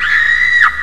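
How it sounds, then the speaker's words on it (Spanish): An electronic keyboard plays a synthesized scream: one loud, sustained high wail that holds steady for most of a second, then bends sharply downward and cuts off. "sonidos así extraños, como que serán unos gritos"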